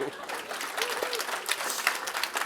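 Audience clapping at a book talk, a steady wash of applause with a voice briefly audible over it.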